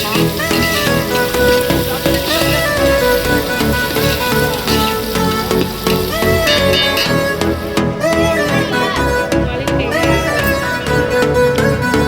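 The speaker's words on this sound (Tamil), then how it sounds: "வெங்காயம் வதங்கிச்சு" Onions frying in a pan give a steady, loud sizzle throughout, with a busy crackling texture and faint tonal sounds over it.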